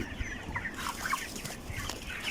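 Chickens cluck softly in the distance, scattered short calls over a quiet, murmuring background.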